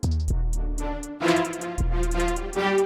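A sustained synthesized orchestral chord pad from an FL Studio plugin preset, with bright, repeating plucked accents on top, playing steadily without any voices.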